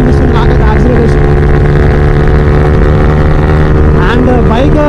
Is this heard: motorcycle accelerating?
yes